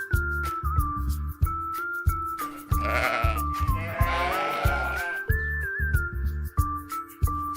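A sheep gives a long, trembling bleat in the middle, loud and wavering, surrounded by a cheerful tune with a steady thumping beat throughout.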